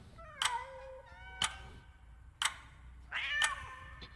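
In Sense: A Cyberpunk Ghost Story, an angry cat meows several times, whiny and fairly close, over a quiet backdrop punctuated by sharp ticks about once per second.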